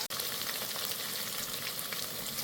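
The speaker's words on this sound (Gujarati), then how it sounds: "થોડા અધકચરા પાકી જાય ત્યાં સુધી આપણે એને બરોબર તેલમાં પકાવીશું." Vegetables frying in oil in a pan for a Kathiyawadi dinner, a steady dense sizzle that holds close and even throughout with no talk over it.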